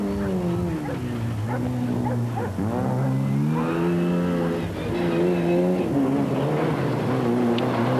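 Rally cars, a new Renault and a Group N Mitsubishi Lancer, race along a stage road, their engines whining and revving up and down loudly and continuously with shifting pitch.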